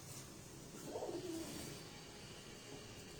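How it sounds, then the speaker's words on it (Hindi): A Teddy pigeon gives a single soft coo near the one-second mark, faint against a low background hum and murmur. "ये टेडी कबूतर है जी"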